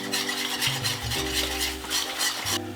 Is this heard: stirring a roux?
yes